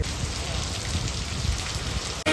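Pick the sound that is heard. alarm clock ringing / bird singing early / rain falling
rain falling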